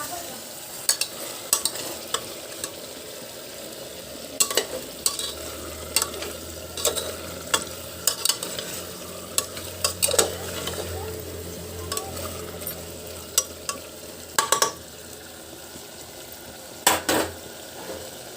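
Spices for chicken pulao sizzle and fry in a pan while a spoon stirs and scrapes against the metal in irregular clanks, steady frying hiss underneath.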